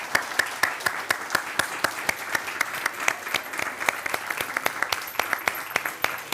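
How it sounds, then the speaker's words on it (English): Audience at a Constitution Day program applauding, a steady patter of claps from a modest crowd, with some sharp individual claps standing out throughout. "A round of applause."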